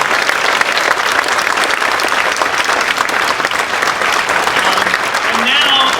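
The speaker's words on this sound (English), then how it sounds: "let's give a round of applause" Audience applause fills a brunch program hall, loud and continuous throughout, a dense wash of clapping hands from a sizeable crowd with no breaks.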